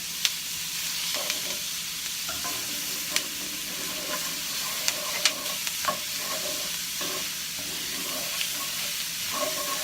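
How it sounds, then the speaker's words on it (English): Chopped onions cooking in butter over medium heat in a pot for crawfish étouffée, with a steady frying sizzle and occasional scrapes and clicks of a stirring spoon, close and even, with no talking. "Let this stir. We're going to let this cook for a couple minutes."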